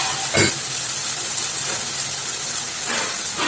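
Greens stir-fried in a pan with salt give off a steady hissing sizzle, with a couple of brief louder bursts of steam over the continuous frying noise.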